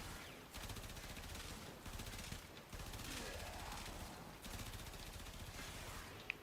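Continuous rapid gunfire from a channeling-ability build in the Warframe video game, a dense unbroken stream of shots with brief gaps, steady and close.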